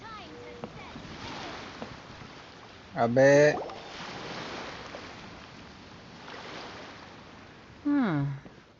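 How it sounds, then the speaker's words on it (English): Ocean waves wash steadily in Genshin Impact as a broad, soft surf hiss that runs throughout, with a voice cutting in briefly twice over the water. "The sound of the ocean waves."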